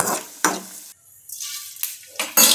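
Tempering sizzles in a pan as chillies and garlic go into hot oil, in short crackling bursts separated by brief near-silent gaps, close and moderately loud.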